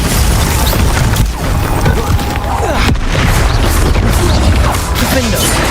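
Bombarda blasting spells in Hogwarts Legacy, loud booming explosions and crashes packed densely through the whole stretch, with a voice talking over the chaotic blasts.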